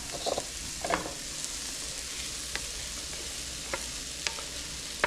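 Garlic sweats in a pan for ground beef stroganoff, a soft steady sizzle broken by several sharp scrapes and taps as it is stirred.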